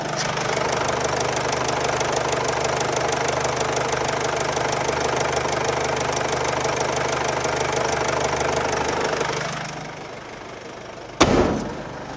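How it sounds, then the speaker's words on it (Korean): A Mercedes SUV engine idles steadily and loudly up close with a constant ticking rumble, then cuts out, leaving quiet and a single sharp knock. "바로 이어서 엔진음도 한번 들려드릴게요"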